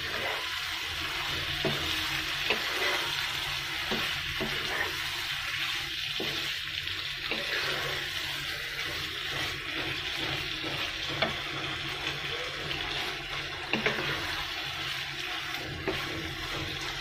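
Bele fish sizzle in a pan for a Bengali chorchori, a continuous frying crackle broken by scattered clicks and clatters from stirring and handling.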